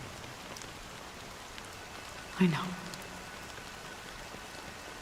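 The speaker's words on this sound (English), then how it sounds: "But it's still raining." Steady rain falling as a soft continuous hiss throughout, with a brief louder thump partway through and a short spoken phrase.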